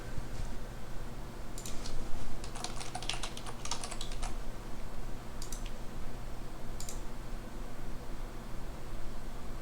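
Computer keyboard typing in bursts of quick key clicks, near and moderately loud, over a steady low background hum, with pauses between runs of keystrokes.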